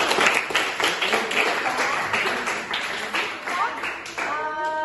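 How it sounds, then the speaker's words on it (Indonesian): A classroom full of people applauds in a steady, dense patter of clapping that carries on for several seconds, with voices mixed in and a few sharper taps near the end. "Tepuk tangan lagi."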